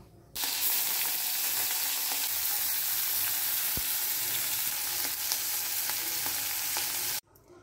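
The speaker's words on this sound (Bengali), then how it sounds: "মাছ কটা ভেজে নেব।" Prawns fry in oil in a pan, giving a loud, dense, continuous sizzle that runs almost the whole time and cuts off sharply at the end, with faint stirring clicks in between.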